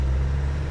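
Steady low diesel drone from a 1995 Land Rover Defender Camel Trophy 300tdi driving in second gear, close and even in loudness throughout.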